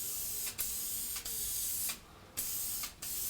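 An aerosol spray can hisses in short bursts while a clogged nozzle is cleared, with a long steady spray broken by brief pauses. The sound is close and fairly quiet, with no talking.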